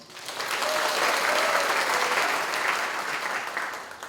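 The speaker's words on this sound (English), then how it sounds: "think we should give him another round of applause" Sustained applause from an audience at an economics department jubilee celebration, a dense, steady clatter of many hands that swells and holds for several seconds.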